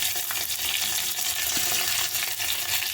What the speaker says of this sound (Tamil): எல்லா பெரிய வெங்காயத்தையும் வதக்கிக்கலாம்.